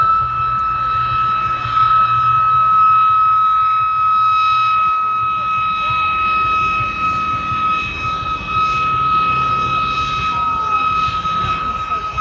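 A de Havilland Vampire jet aircraft flying past at an air show, a loud sustained whine with a steady high tone that holds throughout and swells slightly as it passes.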